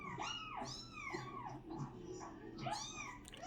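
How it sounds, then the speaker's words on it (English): Several drawn-out cat meows in succession, rising and falling in pitch, fairly close and clear with a little background noise. "Meowing."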